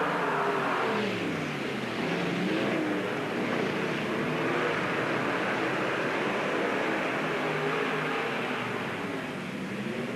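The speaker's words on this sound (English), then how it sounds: "Thompson, Bajon, Bull, Milrise, and Stafford, they race off the back end." Race cars roar around a dirt oval track at East Moline, a loud, continuous engine drone with the pitch rising and falling as the field passes, and no talk over it.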